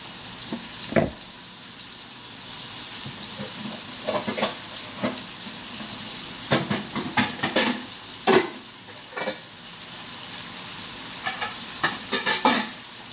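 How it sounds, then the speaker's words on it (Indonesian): Meat being stir-fried in a pan in a home kitchen until it changes colour and its juices cook down, with intermittent scraping and stirring strokes over a steady sizzle, fairly close and with no talk. "ini saya tumis dagingnya sampai berubah warna dan sampai airnya surut"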